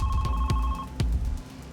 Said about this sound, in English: and her phone rang.